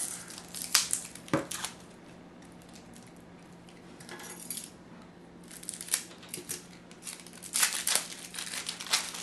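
A Minchiate tarot card deck being unwrapped, with close crinkling and crumpling of packaging in irregular bursts and quieter gaps between, soft overall and no talking.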